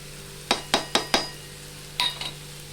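A spatula clinks sharply against a pan while stirring beetroot fry: four quick taps, a pause, then a few more, with only a faint sizzle underneath.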